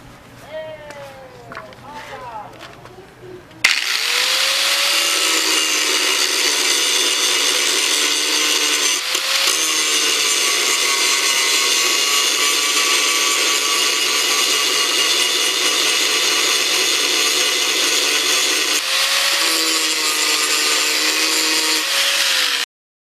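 Power tool grinding off the rivet heads on a Subaru Impreza/Forester AC compressor clutch drive plate, a loud continuous whine starting abruptly after a few seconds of quieter handling, with brief dips in pitch as the tool loads.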